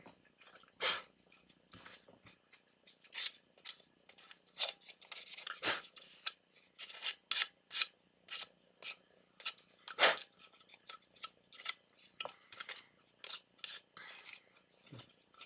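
Hand sanding for paint prep on a plastic X-Shot Eliminater toy blaster, the grip area where the hand rubs: a steady run of short, dry, raspy scrubbing strokes, close and fairly quiet, with no talking.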